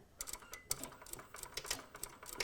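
A sewing machine stitches the side pocket of a pair of pants, with rapid rhythmic clattering bursts of needle strokes, close and fairly quiet.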